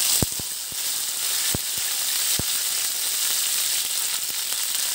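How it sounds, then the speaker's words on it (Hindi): Curry leaves dropped into hot oil with mustard seeds crackle in a steady broadband sizzle, punctuated by a handful of sharp pops and spits, close and fairly loud, with no voices. "अब हम डालेंगे तड़तड़ा सा फड़कता हुआ कड़ी पत्ता।"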